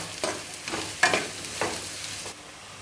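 Finely chopped large onions frying in a pan for Andhra-style chicken: a soft sizzle broken by several short stirring strokes, close by and with no talking.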